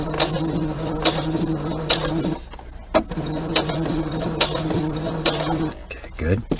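A sewing machine stitching a back stitch on a thumb hole cuff, with two runs of steady rapid mechanical whirring broken by sharp clicks and a brief pause between, a voice faintly present.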